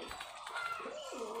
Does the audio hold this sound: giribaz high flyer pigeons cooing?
yes